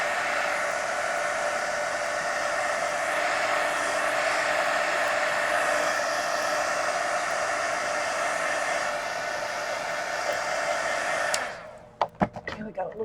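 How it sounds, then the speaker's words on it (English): Heat gun drying acrylic paint on mixed media art cards, a steady loud blowing hiss held for about eleven seconds before it cuts off, followed by a few sharp clicks and handling knocks. "Let me hit these real quick, guys. Heat gun."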